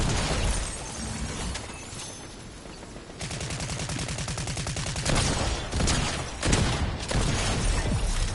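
Loud rapid gunfire rattles in Fortnite, with bursts of automatic fire and heavy shotgun-like blasts in quick succession, dense and close with almost no pause.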